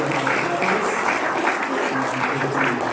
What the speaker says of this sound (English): Can I get another round of applause for this amazing panel?